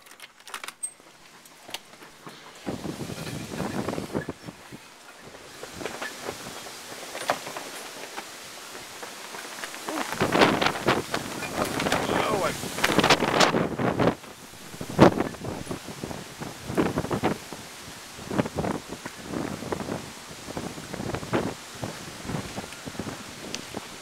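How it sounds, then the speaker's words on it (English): Gusts of strong wind blow through a 3 am night windstorm, rising and falling with rustling and buffeting bursts, fairly faint and distant at first, then louder in surging waves. "But you want to talk about some wind."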